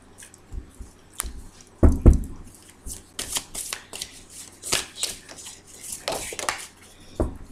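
Tarot cards being cut and shuffled by hand, with soft papery riffles, slaps and rustles coming in irregular bursts close up, including a louder cluster of card handling early on.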